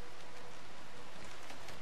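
Rain pours down in the Rimworld space-colony game as a dense, unbroken hiss of drops, loud and even across the whole short stretch.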